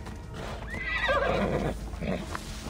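Horse neighing in Assassin's Creed Odyssey, a loud, close whinny rising and falling over a couple of seconds with faint hoof and ambient noise beneath.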